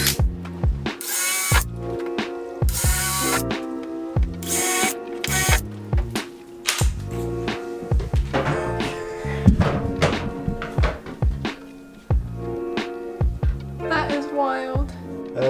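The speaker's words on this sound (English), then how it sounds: "Now I just need to drill out the corners, so I'll know where all 4 corners are going to be." Power drill boring holes in the roof of a 2021 Ford Transit van for a Maxx Air fan install, heard as close, loud bursts of whirring and grinding broken by thunks and pauses, with brief sounds of handling.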